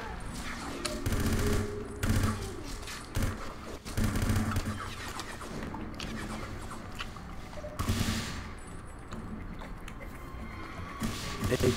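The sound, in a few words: AK-74 rifle gunfire in video game 007: Everything or Nothing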